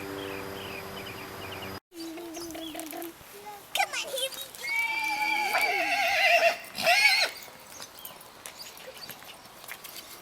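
A horse whinnies loudly nearby in a long, shaky neigh that rises and falls, following a short stretch of talking, with insect chirps faintly in the background.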